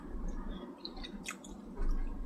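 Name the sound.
eating fish mixed with curry gravy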